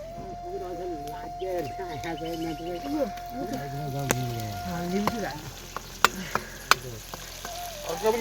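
Meat fries steadily in oil in the background of a Himalayan village kitchen while a person talks over it, with a few sharp clicks and pops near the end.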